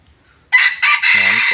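A single close, loud crow from a young red-plumaged Thai crossbred jungle-fowl decoy rooster starts after a short quiet moment and breaks into a rough, throaty ending.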